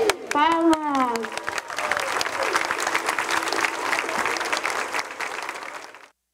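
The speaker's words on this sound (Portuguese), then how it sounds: "Palmas!" Crowd applause at a memorial tribute for a teacher killed by floods, a dense, steady clapping that follows a chanted name and shouting, holding for several seconds before cutting off.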